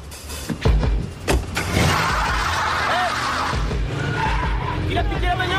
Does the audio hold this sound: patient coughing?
no